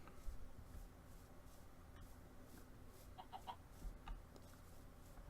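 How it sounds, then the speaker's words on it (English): A chicken in Minecraft with the Better Than Wolves mod, faint clucking bursts midway through a quiet background with light rustling. "And a chicken."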